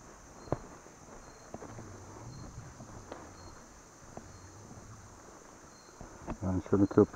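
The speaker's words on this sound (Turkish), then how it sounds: "Aşırı sinek var." Flies buzz faintly around a narrow pedestrian bridge near ruined castle grounds and a waterfall, a thin insect drone under light wind and scattered handling bumps, growing louder and busier near the end.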